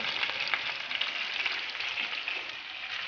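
Menemen vegetables sautéing in a pan, giving a continuous bright sizzle and crackle, close and steady with no talk.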